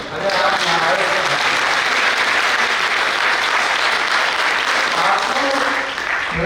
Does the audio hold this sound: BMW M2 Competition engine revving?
no